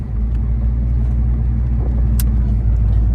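A 1991 Ford Mustang GT cruises along with a deep, loud, steady engine and exhaust rumble heard from inside the car, a constant low drone with a brief faint tick or click partway through.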